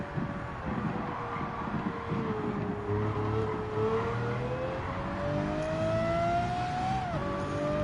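Race car engines in Gran Turismo 7, a Porsche 911 GT3 RS (Type 992, 2022) among a Lamborghini race field, drone steadily with a rising engine tone that swells and dips, loud and continuous with no talk.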